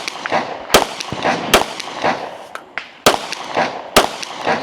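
Sharp gunshots ring out at a women's tactical shooting competition stage, a dozen or so loud, close reports fired in quick irregular bursts with brief pauses between strings and little else audible.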